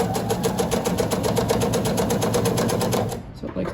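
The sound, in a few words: sewing machine stitching binding on quilted placemat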